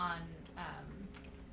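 Typing on a computer keyboard, a quick run of faint keystroke clicks spread over a moment, close by and soft.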